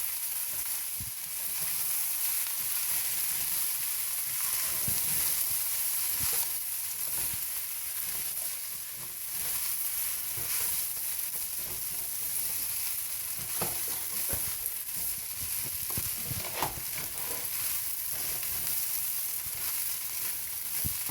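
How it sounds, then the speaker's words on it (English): Pilau rice stirred in a hot pot, a constant bright sizzle and frying hiss with occasional scraping stir sounds, close and steady throughout with no talking. "So at this point, I'm going to stir this in."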